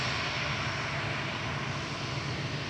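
An EasyJet jet departing Manchester Airport for Paris Charles de Gaulle gives a steady, loud engine roar with a droning low hum, heard alone and close.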